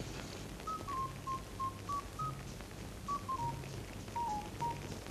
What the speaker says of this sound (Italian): Sì, Lino, ma fa una telefonata a Cavaletta.